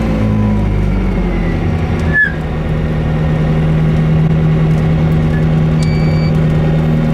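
A McLaren P1 GTR race car drives and accelerates on a hill climb, its engine a steady loud drone with a sustained tone throughout and one brief sharp transient, no talk.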